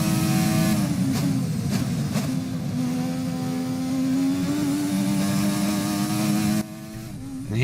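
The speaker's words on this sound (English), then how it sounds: "And here we are back in 1988, driving Ayrton Senna's McLaren as well." A 1988 McLaren Formula 1 car in an F1 video game screams at high revs, its engine note climbing through the gears with brief dips at each shift, loud and continuous.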